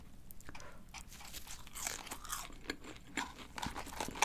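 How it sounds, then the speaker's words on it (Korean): McDonald's curly fries crunch as they are bitten and chewed up close, irregular crisp crackles and munching with no talking. "요거 컬리 후라이 먹어볼게요."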